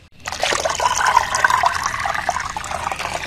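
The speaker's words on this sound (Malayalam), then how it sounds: "അപ്പം ഇനി നമുക്ക് ഇത് നമ്മുടെ ഈ ചെടികളുടെ ചൂട്ടിലേക്ക് നല്ലോണം അങ്ങ് ഒഴിച്ചു കൊടുക്കാം" Plain water poured steadily onto the base of rose plants, a continuous splashing gush that starts abruptly and keeps flowing at an even, fairly close level.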